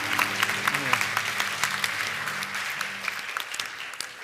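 A church congregation at a Sunday service in Bellevue bursts into warm applause: dense, steady clapping from many people that fades slightly toward the end.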